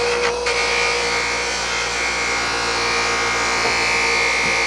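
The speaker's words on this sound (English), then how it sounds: "The objective here is to get the speed of the wheel running on the material" A spinning buffing wheel polishes an oiled curly maple gun stock, giving a continuous loud motor hum and whir with a light rubbing hiss as the wood is worked against it, steady throughout.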